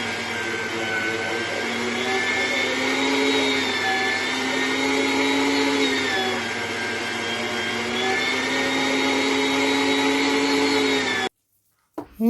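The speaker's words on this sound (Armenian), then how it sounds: "Հիմա աղում է սոխը տոլմայի համար։" An electric grinder mincing onion for Armenian cabbage tolma whirs with a loud, steady motor whine for about eleven seconds, then cuts off abruptly near the end.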